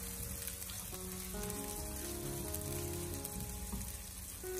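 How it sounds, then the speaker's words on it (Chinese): Chopped scallions stir-frying over low heat in a wok of hot cooking oil, a close steady sizzle with a faint sustained hum beneath, no voices. "油热之后，再把葱花放进来，用小火翻炒一下，把葱花的香味翻炒出来。"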